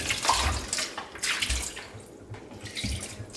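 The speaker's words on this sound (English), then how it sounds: "just pour vinegar" Regular vinegar pours and splashes into a dishwasher, making a steady watery rush with a few surges, heard alone at moderate level.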